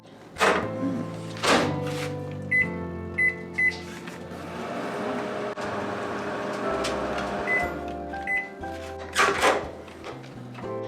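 A microwave oven hums steadily while heating anchovies and dried small fish, with a few thunks of the door and button presses and several short beeps.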